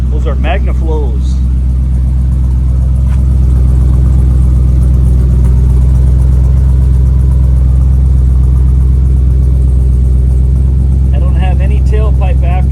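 A 1968 Chevy big block V8 with MagnaFlow exhaust, idling close and loud with a deep, steady throbbing rumble, someone talking over it at the start and end.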